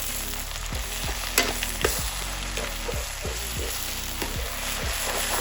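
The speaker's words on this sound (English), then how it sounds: "And we just stir this around." Yakisoba noodles with sauce stirred and fried in a pan: steady close sizzle under a regular rhythm of scraping utensil strokes, with no talking.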